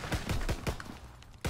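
Rapid pistol-style gunfire from a Call of Duty WW2 hardcore Kill Confirmed match with an M1911 in play, a string of sharp, loud shots fired in quick irregular succession.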